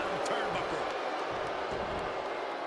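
Crowd booing in the WWE 2K25 wrestling video game, a steady, dense roar of arena noise with a commentator talking over it.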